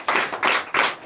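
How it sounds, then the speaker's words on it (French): A church congregation clapping in acclamation, three quick bursts of hand claps in a short rhythmic run, close and clear. "Donne l'acclamation à Jésus."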